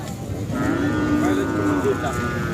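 A Khillar bull gives a long, deep moo that swells and fades, close by, over a steady outdoor murmur of crowd noise at a cattle market in Pandharpur.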